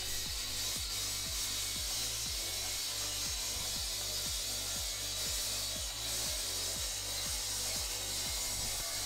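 A battery-powered saw cuts through concrete with a steady loud grinding roar and a rhythmic scraping pulse underneath, continuous throughout with no talking.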